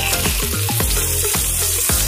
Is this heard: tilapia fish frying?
yes